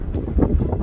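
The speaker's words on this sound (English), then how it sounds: "Sorry about the wind." Wind buffets a microphone outdoors at a remote, empty camping spot, a steady low rumble with gusty swells throughout and no voices.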